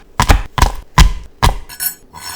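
Five whole garlic cloves being minced with a knife on a board, giving four sharp, loud chops at irregular intervals followed by a couple of lighter taps, close and clear with no talking.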